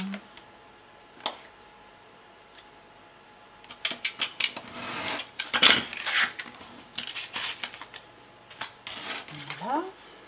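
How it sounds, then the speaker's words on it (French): Scissors snip through paper while trimming rounded corners for a baby girl's album page, a series of short, crisp clicks and cuts close up in a quiet room, clustered in quick runs. "Et je coupe."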